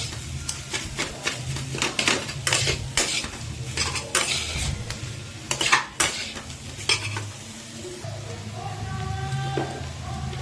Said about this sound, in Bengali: আলুটা এবার ভালো করে মিশাতে হবে, এর সাথে মিশিয়ে একবারে শুকনো শুকনো করে নিতে হবে।